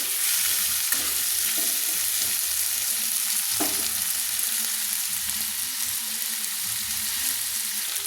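Cut potatoes frying lightly in a pan, a steady close sizzle running throughout with a few brief clinks of stirring, no voices.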